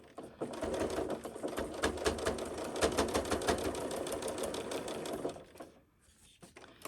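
A sewing machine stitches fabric along the top edge of a pleated face mask, running in a steady fast rattling burst for about five seconds before stopping, then near-silent handling afterward.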